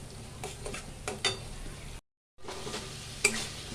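Spice paste fried in oil for a Bengali dhokar jhal curry gets stirred in short scraping strokes under a soft sizzle, with a brief silent gap midway.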